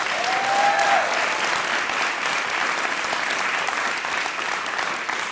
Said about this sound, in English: please give some of that thunderous applause to Farah